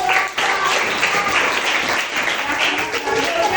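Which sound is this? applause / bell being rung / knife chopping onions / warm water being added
applause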